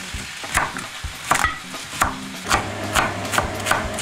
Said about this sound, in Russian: И обжариваем 5-7 минут, чтобы вся жидкость испарилась